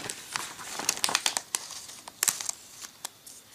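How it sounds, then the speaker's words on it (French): Pre-cut paper card pieces being detached by hand, giving a series of close, crisp crinkling and soft tearing sounds in irregular bursts, with no talking. "Ces éléments sont prédécoupés, il suffit donc de les défaire, pas besoin de ciseaux"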